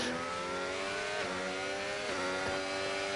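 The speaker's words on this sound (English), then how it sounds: "I do like the sound of these engines" Racing car engines in a sim racing game at the Hungary circuit: several loud, harmonic engine notes rise and fall steadily, with gear changes roughly every second, heard alone.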